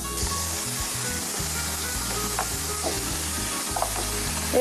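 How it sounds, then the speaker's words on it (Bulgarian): Onion, garlic and olives tumble into hot olive oil and sizzle steadily, a continuous bright hiss with a few crackles and pops, close and fairly loud, with no talking. "Така изсипваме лука, чесъна и маслините в загрятата мазнина."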